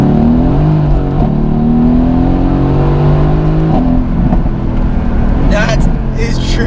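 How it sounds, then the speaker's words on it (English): A Mercedes-AMG GT S twin-turbo V8 in race mode revs up loudly through paddle-shifted gears, its rising engine drone continuous and close, ending with a short cluster of sharp exhaust pops and crackles. "Oh, the pops and the crackles from the exhaust."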